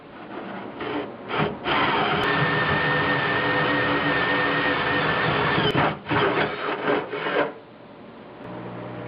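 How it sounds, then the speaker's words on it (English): A loud, steady grinding rasp of a hole saw cutting through metal on a 1976 Mazda RX-5 Cosmo runs for several seconds, with short starts and stops before and after. "it's now time for some really awkward hole saw drilling"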